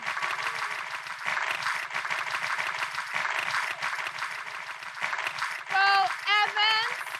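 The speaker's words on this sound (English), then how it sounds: "A big, big round of applause for them." An audience at a 2024 business summit gives a steady round of applause, with a few voices calling out and cheering over it near the end.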